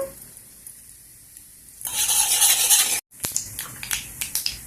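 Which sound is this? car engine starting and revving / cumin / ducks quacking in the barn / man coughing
cumin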